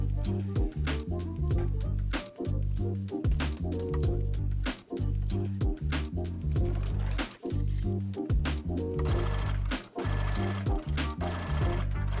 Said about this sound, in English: Using a straight stitch, I sewed those folded pieces together.